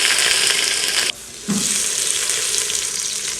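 Minced garlic and trimmed green beans sauté in an Instant Pot on the normal sauté setting, giving a loud, steady sizzling hiss that dips briefly and then resumes at full strength.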